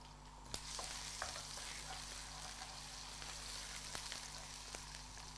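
Finely chopped ginger and garlic sizzling in hot oil, a steady broadband hiss with a few faint clicks from stirring, moderately quiet with no voices over it.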